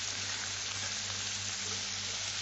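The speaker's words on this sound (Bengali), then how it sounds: "একটু এগুলো কষা হয়ে যাবে, ভাজা ভাজা হয়ে যাবে" Diced potato and pumpkin pieces frying in a pan, a soft continuous sizzle heard close but quietly, with a low steady hum beneath and no talking.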